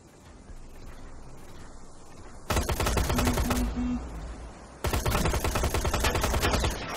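Two loud bursts of rapid automatic fire come from a machine gun in the shooter game Terminator Resistance. Each burst lasts about one to two seconds, with quieter in-game ambience before and between them.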